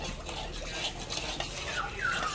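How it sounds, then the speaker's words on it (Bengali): Spices and yogurt being stirred in a pan while cooking a Bengali dahi potol gravy, a soft continuous scraping and stirring with faint sizzling and a few light spoon clinks against the pan. "দই সহ সমস্ত মশলাটা কিছুক্ষণ কষিয়ে নিচ্ছি।"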